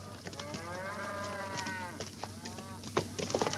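A cow moos in a Brazilian film scene, long drawn-out lowing calls that rise and fall over a steady low background hum, followed by a few light knocks and rustles.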